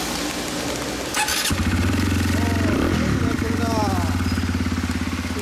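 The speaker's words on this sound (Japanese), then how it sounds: "このエンジン音聞かせてもらえる？" Honda CBR125R motorcycle fitted with an aftermarket WR'S exhaust, engine starting and settling into a steady close-up idle with a throaty rhythmic burble, people talking over it.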